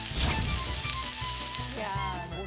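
Bacon sizzles and crackles steadily while it fries in a pan. The hiss is continuous and close, with a few faint sounds of movement mixed in.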